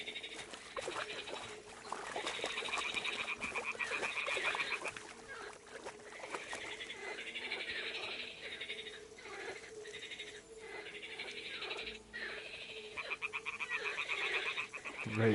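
Toads croak in a dense, continuous chorus in the video game Kingdom Come Deliverance 2, the calls overlapping steadily across the whole stretch with no clear pauses.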